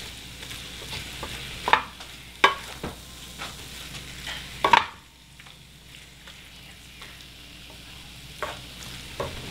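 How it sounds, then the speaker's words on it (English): Chicken fajitas being stirred in a hot pan after a splash of soy sauce goes in: a steady low sizzle with several sharp utensil scrapes and clacks in the first half, then quieter frying. "Stir it in."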